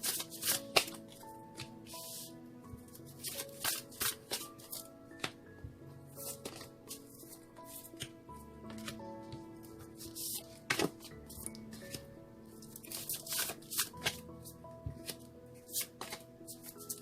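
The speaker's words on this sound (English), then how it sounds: "One more shuffle, they say." Tarot cards being shuffled over and over, with quick riffling bursts and soft slaps as the deck is cut and squared.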